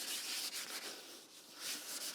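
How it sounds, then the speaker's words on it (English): A wet green scrubby pad scours a kitchen sink in quick back-and-forth strokes, a close, rhythmic abrasive rubbing. "We're gonna wet that green scrubby and scrub away."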